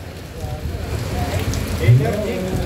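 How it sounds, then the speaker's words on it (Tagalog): Heavy rain pours down in a dense, steady patter on a surface, with a person talking faintly beneath it. "Grabe ang ulan, no?"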